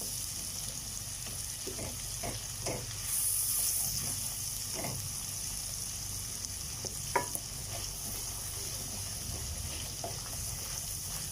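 Onion being fried in ghee as the base of a kofta curry gravy, a continuous low sizzle in the pan with occasional soft clinks and scrapes of a stirring spoon, unaccompanied by speech.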